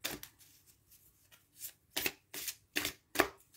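A deck of L'Oracle du Peuple Animal oracle cards is shuffled by hand: a run of quick, close riffles and slaps, light and soft at first and then sharper and louder toward the end, with no voices.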